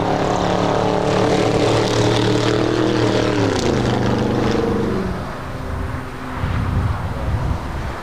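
A Boeing 747-400 airliner bound for Seoul takes off, a loud jet engine roar with droning tones that drop in pitch as it passes, then fades into a softer rumble.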